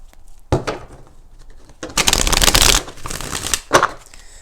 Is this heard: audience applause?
no